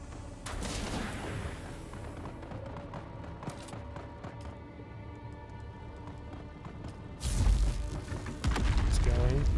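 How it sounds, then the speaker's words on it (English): Explosions in the video game Dune Awakening: dull booms and crackling blasts with rattling debris, a heavy louder burst near the end, under continuous game ambience. "There's explosions happening now."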